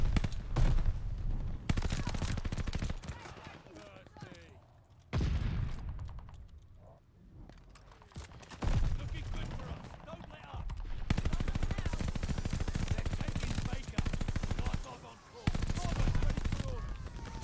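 A DP 27 machine gun in Call of Duty Vanguard fires in long, loud sustained bursts separated by short pauses, with faint voices under the gunfire.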